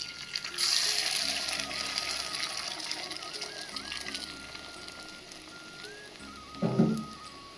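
Two eggs hit hot coconut oil in a pan with beetroot, bursting into a bright sizzle that settles into a steady, softer hiss, with a brief utensil knock near the end.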